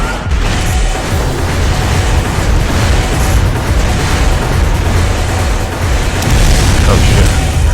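Missiles burst in a mech battle in the Armored Core 3 game, producing loud, continuous rumbling booms and blasts layered over a dense roar of combat noise throughout, with no voices.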